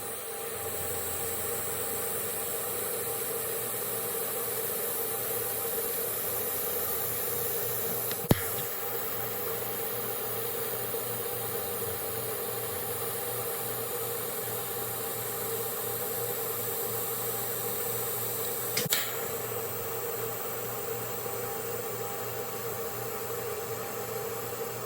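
Welding of exhaust piping on a Toyota MR2 turbo build with a K-series engine swap: a steady, even hiss that runs unbroken for about 25 seconds, with two brief sharp clicks.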